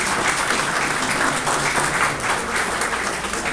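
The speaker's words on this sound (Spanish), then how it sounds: "Fuerte las palmas." Dense, steady applause from an audience at the closing ceremony of a 2011 sports championship in Chancay, loud and sustained throughout with no pause.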